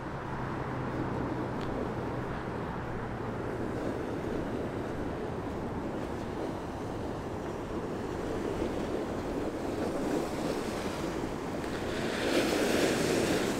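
Continuous winter surf washing onto the shore at Blackpool, a broad steady roar with gusty wind noise buffeting the microphone, swelling slightly louder near the end.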